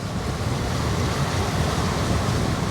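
An Excess 13 sailing catamaran reaching fast at speed under two sails, with a steady close rush of water and waves past the hulls and wind noise, no voices.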